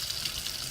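Hot water runs steadily from a kitchen faucet into a sink, a close, continuous hiss and splash with no talking over it.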